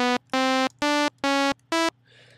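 A high-pitched Logic ES2 synth oscillator plays five bright, buzzy tones in quick succession, each a short held note with rich harmonics, clear and alone, ending with faint noise.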